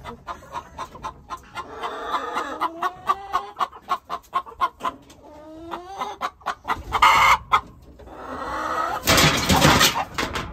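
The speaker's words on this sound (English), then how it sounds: "Oh, now the roosters are fighting." Loud, rapid clucking and squawking as roosters fight, with bursts of flapping and scuffling toward the end as birds scramble close by.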